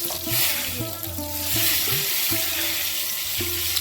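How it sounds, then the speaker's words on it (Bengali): Brinjal slices frying in oil in a pan, a loud, continuous sizzle with faint tonal sounds pulsing in the background and no voices. "এভাবে বোটাটা ধরে কিন্তু উল্টো করে ভেজে নিতে পারেন"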